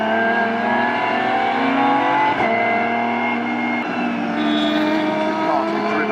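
An Aston Martin Vulcan, an 820bhp hypercar, is driven flat out, its engine holding a loud, steady high-revving roar close by with shifting harmonic tones and no breaks.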